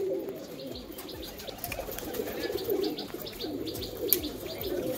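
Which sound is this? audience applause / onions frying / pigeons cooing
pigeons cooing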